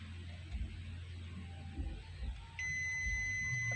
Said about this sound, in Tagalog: Kung magdire-diretso pa rin yung buzzer, ibig sabihin shorted.